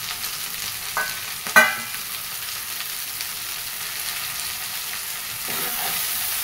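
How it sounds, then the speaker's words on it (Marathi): Finely chopped phodshi, a wild leafy vegetable, sizzles softly in a pan with browned onion, with a couple of sharp scrapes and clinks as a spoon stirs it. "आता आपण ही भाजी टाकून घेऊया फोडशीची बारीक कट केलेली."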